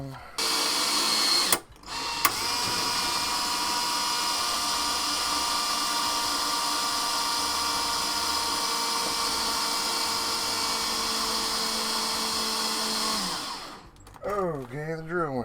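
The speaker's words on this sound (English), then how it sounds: "the drill went dead" A cordless drill whirs steadily for about eleven seconds, backing out screws from a Commodore SuperPET SP9000 CRT housing, with short bursts at the start and a slowing, wavering end as it runs down.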